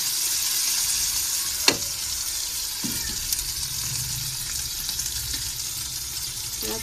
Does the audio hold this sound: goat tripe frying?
yes